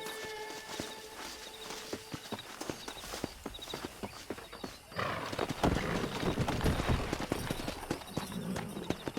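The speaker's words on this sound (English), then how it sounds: "Let's see if we can't wrangle some horses." Horses in the Red Dead Redemption western game: steady clip-clopping hooves with repeated neighs and whinnies, a busier burst of hoofbeats midway, fairly close and continuous.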